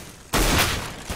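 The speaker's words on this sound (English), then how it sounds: "Flashbang" A flashbang grenade goes off in the game CS:GO on the Cobblestone map as one sudden loud burst that holds for most of a second before fading, with a small thump after it.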